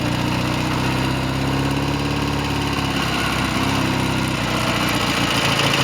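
BSA A10 Super Rocket motorcycle engine running on a road test in snow, a steady loud mechanical drone with a throbbing low end that holds constant throughout, close up with no voices.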